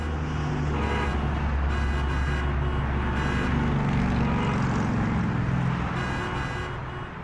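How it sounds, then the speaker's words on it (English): A steady wash of roadway traffic noise with passing cars and a distant horn toot plays loudly and continuously as a segment sound effect, fading slightly at the end, with no talking. "that traffic noise means it's time for Around the Block"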